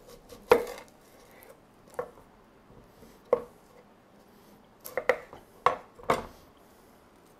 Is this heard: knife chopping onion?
yes